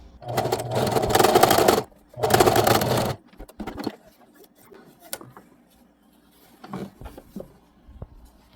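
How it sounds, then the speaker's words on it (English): A home sewing machine stitching a piece of cloth, two loud close bursts of rapid stitching of about a second each, then quiet handling clicks and taps. "I'm going to be sewing on a piece of cloth and you will see how neat the stitch will be"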